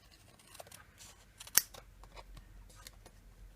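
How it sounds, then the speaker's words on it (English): Scissors snip paper for a handmade Stampin' Up! birthday card, a single sharp close cut standing out among a few soft rustles and small handling clicks in a quiet room. "I'm just going to cut a little bit here."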